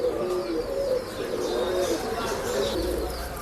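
Breeding pigeons coo repeatedly in a pet shop, low throaty rolling calls overlapping with light chirps, close and continuous throughout.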